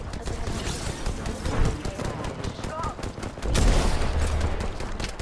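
Dense rapid gunfire from a shooter video game, a steady crackling stream of shots that swells louder partway through, mixed with voices talking over it.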